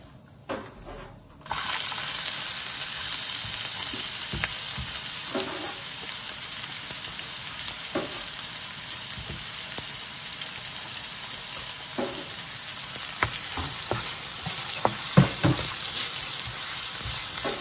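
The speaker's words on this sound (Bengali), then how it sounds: "এবার আমরা পেঁয়াজটাকে ফ্রাই করব যতক্ষণ না পেঁয়াজটা একটু লাইট ব্রাউন কালারের হয়ে যাচ্ছে" Chopped onions begin frying in a pan, a sudden loud hiss as they hit the hot oil, then a steady close sizzle with occasional clinks and stirring taps.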